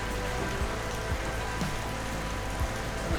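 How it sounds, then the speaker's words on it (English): Rain falls steadily outdoors as a dense, even hiss, with occasional low thuds and drops tapping nearby and no speech over it. "No, it's been raining here."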